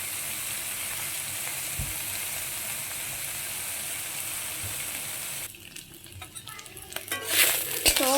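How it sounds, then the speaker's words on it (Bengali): Small fish frying in a little oil, a steady close sizzle that runs unbroken for several seconds before turning into scattered crackles and soft clinks near the end. "দেখো অল্প তেলের মধ্যে আজকে মাছটা ভেজে নিলাম।"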